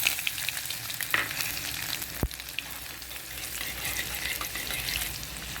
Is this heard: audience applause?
no